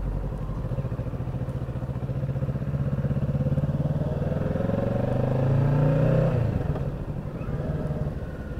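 A Kawasaki Ninja motorcycle on a test ride, its engine droning steadily and swelling in a rev before easing back, close and continuous with wind noise and no talk.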